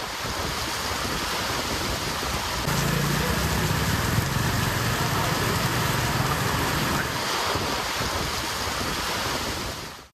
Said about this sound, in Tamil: கிருஷ்ணகிரி, பர்கூர், ஜெகதேவி, குந்தாரப்பள்ளி, காவேரிப்பட்டினம் உள்ளிட்ட பகுதிகளில் பலத்த காற்றுடன் கனமழை பெய்தது